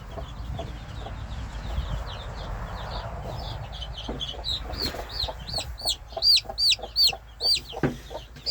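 Chickens, including a young bird that may be a male, cluck in a series of short calls that grow louder and more rhythmic toward the end, over a soft rustling background.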